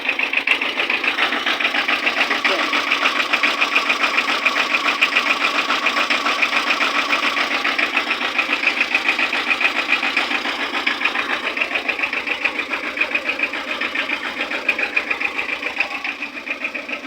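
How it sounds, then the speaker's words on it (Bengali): Heard up close, the running engine of a Tata EX2 truck gives a loud, dense, fast rhythmic chatter. It holds steady for the whole stretch with no talk over it. "এখন ইঞ্জিনটা দেখাই দিই"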